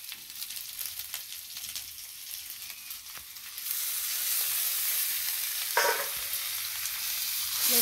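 Bhetkol (ghetkol) sizzling in hot oil in a pan for a Bengali recipe, the frying growing louder and fuller partway through as the ingredient goes in, with a brief stir-scrape near the end; steady and close, no talking.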